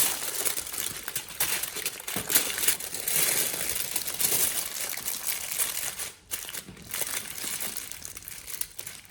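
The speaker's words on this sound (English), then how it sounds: "Finally, wrap an additional layer of aluminum foil around it." Aluminum foil wrapped around a piece of meat, close crinkling and crumpling with shifting bursts and a brief pause, no talk.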